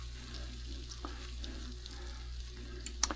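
A whole stick of butter melting over gentle heat in a pan, giving a faint, soft, steady sizzle with a few tiny pops.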